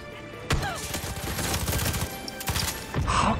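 Gunfire in Far Cry 6, rapid bursts of automatic shots and sharp individual cracks in a dense, close fusillade throughout.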